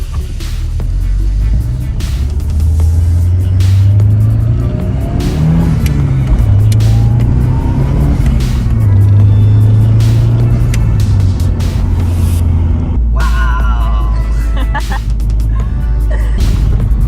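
A Nissan 180SX (SIL80) engine revs hard through the gears during a street drift, with loud, continuous climbing and falling engine notes and brief dips at each shift.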